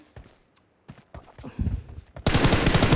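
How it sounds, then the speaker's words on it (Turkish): Gunfire in the shooter game PUBG Mobile: scattered shots and footstep-like thuds, then a dense, loud sustained burst of automatic fire at the end. "Oğlum o kadar vuruyorum Eşref."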